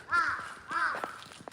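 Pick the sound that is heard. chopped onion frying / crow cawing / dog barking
crow cawing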